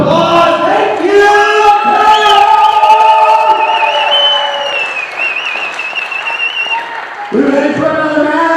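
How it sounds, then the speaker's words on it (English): A wrestling event crowd gives a sustained round of applause with cheers and whoops, loud and close, while a voice rings over the noise before the clapping swells again near the end. "give yourselves a big round of applause"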